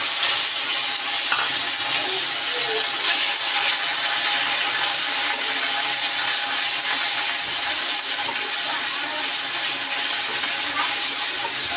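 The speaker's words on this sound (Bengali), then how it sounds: "এখন দিয়ে দিব পেঁয়াজ আর জিরা বাটা।" Onion and cumin paste frying in hot oil in a wok, giving a steady, loud, continuous sizzle and hiss that holds for the whole stretch, with no talking over it.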